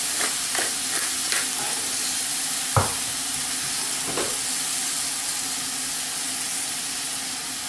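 Beef and chicken with seasonings fry in a pan with a steady close sizzle and hiss, broken by a few clicks of stirring early on and a sharp utensil knock midway.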